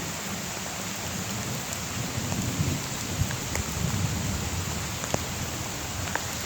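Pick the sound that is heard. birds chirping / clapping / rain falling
rain falling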